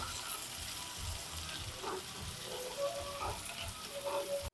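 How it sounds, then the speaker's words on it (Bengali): Chopped onions and tomatoes fry in a pan with a steady, moderate sizzle, broken by a few faint clinks and stirring scrapes, with no talking. "এবার অল্প ছোট ছোট করে কাটা পেঁয়াজগুলো দিয়ে দেবো সাথে দিয়ে দেবো টমেটোগুলো"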